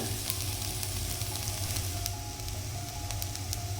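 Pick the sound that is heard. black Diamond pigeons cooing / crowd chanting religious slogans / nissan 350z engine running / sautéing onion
sautéing onion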